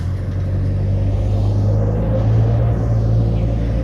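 A car driving along a road, a loud continuous low engine rumble with a steady hum and no talking.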